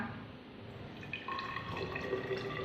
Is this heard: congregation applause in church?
no